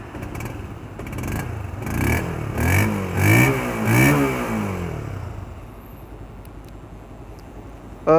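A 2015 Honda CB150R motorcycle engine revs up and down in several bursts, each rev rising and falling in pitch, then settles back to a steady idle.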